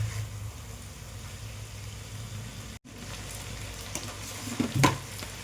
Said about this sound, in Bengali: ডিম পনির দিয়ে একসঙ্গে এটাকে ভালো করে কষিয়ে নেব।